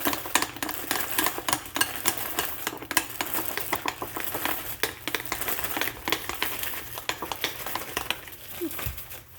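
Chicken tenders shaken inside a zipped plastic bag of coating give a steady crinkling, rattling rustle that lasts throughout at close range, with a brief soft knock near the end.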